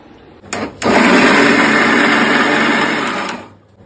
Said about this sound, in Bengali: আর একটা আওয়াজ পাচ্ছে, সেটা হচ্ছে ওয়াশিং মেশিনটা চলছে, সেই আওয়াজ হচ্ছে